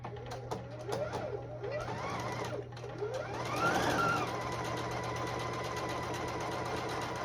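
A sewing machine stitches the side seam of a dress, a steady, fast, whirring hum of needle strokes that runs continuously, close and clear, with a few soft handling taps at the start.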